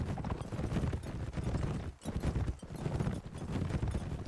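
A horse galloping in Mount & Blade: With Fire and Sword. The hoofbeats are rapid and continuous, drumming close and loud with a brief dip midway, and no voices are heard.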